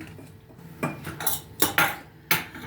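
A utensil scrapes and clinks against a bowl in a few separate strokes, close and fairly quiet, with soft rustling between, as semolina is mixed into a chicken pancake batter.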